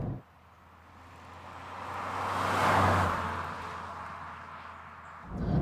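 A turbocharged Toyota Starlet Glanza V drives along under load, its small engine droning steadily. The engine note builds gradually to a peak near the middle, then eases off.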